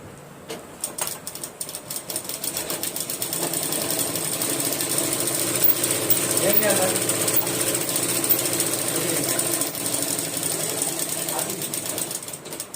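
Sewing machine stitching back over an existing seam on fabric, a rapid mechanical chatter that builds to a steady close drone and then eases, with a little background talk.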